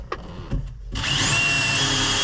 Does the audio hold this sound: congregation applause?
no